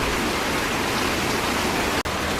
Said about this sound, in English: Alright, so we made it to Tegenungan Waterfall.